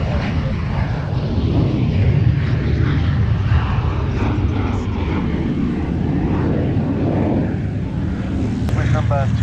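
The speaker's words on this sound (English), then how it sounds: "the third of the Hurricanes on display as the Vampire gets airborne" Hurricane fighter and a Vampire jet taking off at an airshow, a loud, steady propeller and jet engine roar filling the whole stretch under a commentator's voice.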